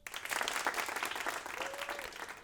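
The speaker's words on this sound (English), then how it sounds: "Hold for applause." Applause cue on an MMA fight-night commentary show, a short burst of dense clapping that rises quickly, holds, and tapers off at a modest level with no speech over it.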